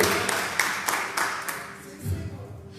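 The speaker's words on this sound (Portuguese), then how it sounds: "Você crê, aplaude forte, meu irmão." A church congregation at a sermon claps strongly, with a burst of sharp, rapid claps in the first half-second that thin out and fade while a voice continues over them.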